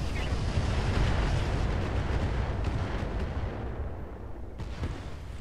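Incendiary weapons fire in the Roguetech mech video game, a heavy continuous roaring rumble of launches and burning blasts, loud and steady with a few sharper cracks toward the end.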